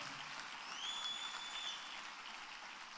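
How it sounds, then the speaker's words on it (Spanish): A church congregation clapping for the Lord, a dense, moderately distant wash of many hands applauding together, swelling slightly in the middle, with a faint whistle-like tone briefly above it. "Dale un fuerte aplauso al Señor."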